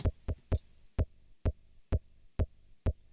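The high layer of a techno kick drum sounds alone, punchy and clicky, starting with a quick triple hit then settling into a steady pulse of single thumps.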